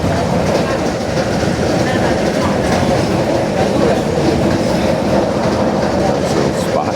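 Riding inside a Romanian passenger train on the way to Bran, a steady loud rumble of the carriage with rhythmic clickety-clack of wheels over rail joints fills the space, with occasional voices in the background.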